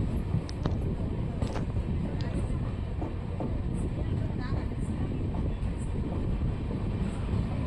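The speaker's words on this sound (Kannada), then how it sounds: "ನಮ್ಮ ಟ್ರೈನ್ ಈಗ ಬಾಗಲಕೋಟೆ ರೈಲ್ವೆ ಸ್ಟೇಷನ್ಗೆ ಎಂಟ್ರಿ ಆಗ್ತಿದೆ" A passenger train pulls into Bagalkot railway station, a steady loud rumble with faint rhythmic clatter and high-pitched squeals throughout.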